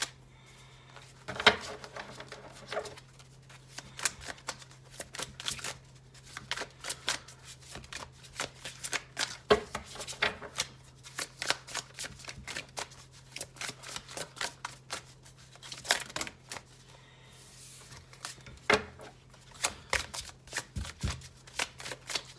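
A Gilded Tarot deck is shuffled by hand in repeated bursts of crisp riffling and flapping card noise, close and fairly loud, with short pauses between runs and a steady faint low hum underneath.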